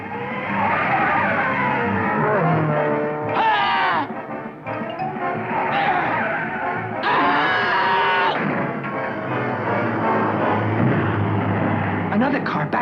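Cartoon race cars roar past with sharp tire squeals and skids, loud and close. Excited voices are heard over the engines and screeches.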